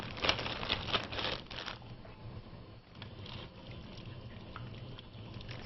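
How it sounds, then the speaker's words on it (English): Frozen mixed vegetables from a 16-ounce bag tumble into a pot of minestrone soup, a burst of crinkling plastic and clattering pieces, then a softer patter and simmer. "We're going to add 2 cups of our vegetables, and this here is a 16-ounce bag of frozen vegetables"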